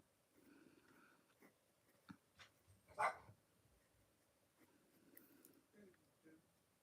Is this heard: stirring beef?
no